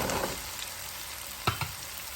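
Onions and potatoes sauté in a pan, giving a steady close sizzle with a couple of brief stirring clicks near the end.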